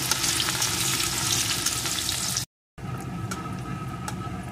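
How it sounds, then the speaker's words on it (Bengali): Chopped medium-sized onion fries in hot oil, a loud, dense broadband sizzle that runs steadily, cuts out briefly to silence, then resumes slightly softer, with occasional stirring clicks. "পেঁয়াজ কুচিটা একটু ভেজে নেব।"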